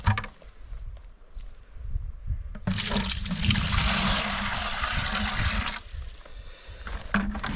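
Water rushing through a high banker gold sluice during a wash up, a loud, steady splashing surge lasting about three seconds between quieter trickling passages, heard up close with no talk.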